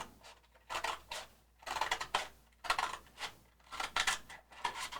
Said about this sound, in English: I'm just going to simply take my scissors and go right along the edge here.